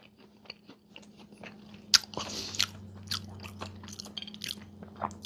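Someone bites into and chews a crunchy, flaky raspberry almond pastry with a buttery crust, giving close, crisp crunches and crackles in an irregular rhythm that are loud against a quiet background.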